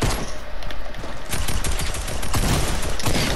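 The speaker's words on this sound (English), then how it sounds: "Alright, shooting." Dense, loud automatic gunfire in the video game Fortnite, a continuous rapid fusillade with shots blending together and alone throughout.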